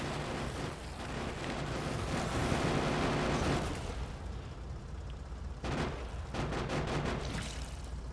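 Grenade explosions against worms in Factorio rumble loudly and almost continuously, with dense booming bursts that briefly thin out before resuming.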